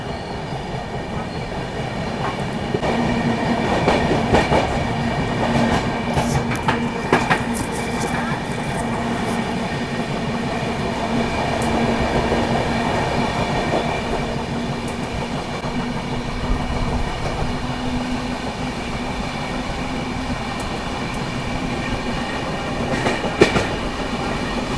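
The New Delhi–Ranchi Rajdhani Express runs through Khurja Junction, heard from inside a 3rd AC coach: a steady rolling rumble with rhythmic wheel clatter and occasional squeals, while people talk over it.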